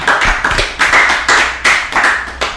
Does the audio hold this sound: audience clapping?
yes